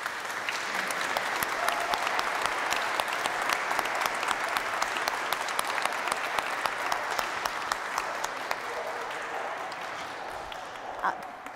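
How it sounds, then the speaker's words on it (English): A church congregation applauds during a family worship service, a broad, even wash of clapping held for over ten seconds, fairly quiet and distant in a large room, with faint voices mixed in. "Let's give him a big round of applause."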